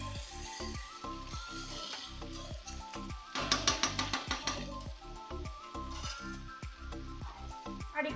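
Ghee sizzling in a frying pan during Bengali home cooking, a steady close hiss with a busier crackling stretch midway, over a steady musical background, with occasional utensil clinks.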